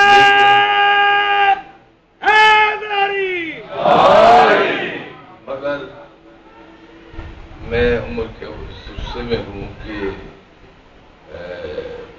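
At a religious gathering, a leader's loud drawn-out shouted call is answered by a crowd roaring a slogan back in unison, the call-and-response repeating in several powerful bursts with pauses between them.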